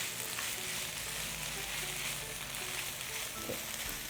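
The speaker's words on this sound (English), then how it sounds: "Wow, now that sizzles really loud." Bamboo shoots, mushrooms and carrots stir-fry in a hot pan for char siu dumplings, a loud, continuous close-up sizzle with faint scraping and stirring beneath it.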